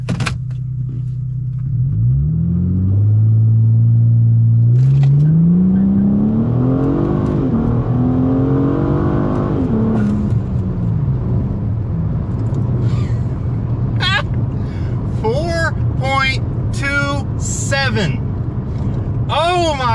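A 2014 Ford Taurus SHO accelerates hard from a standstill, its engine rising in a loud, climbing roar through several gear pulls, with voices speaking over it in the second half and sharp squeals near the end.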